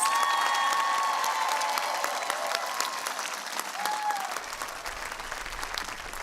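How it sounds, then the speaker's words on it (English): Sustained applause from a large crowd at a college commencement ceremony for graduates fills the space, steady and dense, with a few faint cheers and whistles rising above the clapping. "please join me in one last round of applause"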